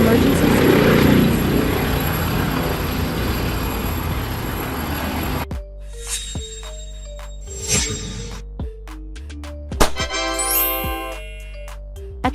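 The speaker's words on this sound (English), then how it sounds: "Ambulance helicopter." An ambulance helicopter's rotor and engine roar loudly and steadily at first, then give way to a quieter stretch with scattered mechanical clunks and a few rising whines.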